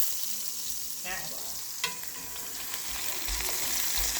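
Chicken pieces fry in a hot pan with a steady, dense sizzle that runs throughout. Light scraping from stirring or turning is heard close up, and no one talks.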